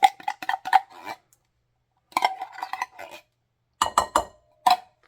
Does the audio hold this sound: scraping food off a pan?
yes